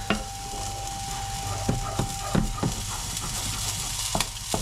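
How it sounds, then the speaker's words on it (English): A spoon stirs cream into a simmering sauce in a pan, giving a few soft scraping knocks over a steady low bubble and hiss. "and then cream into the sauce, about 50 mils again. Give that a little stir."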